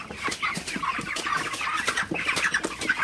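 Broiler chickens in a poultry shed at night cluck and chatter continuously, many birds close by with overlapping short calls and no talking.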